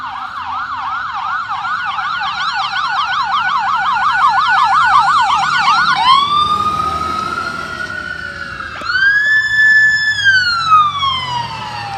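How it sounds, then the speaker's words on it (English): An ambulance siren wails loud and near, first in a rapid yelping warble and then in long rising and falling sweeps as the vehicle passes, with road noise underneath. "Ambulance."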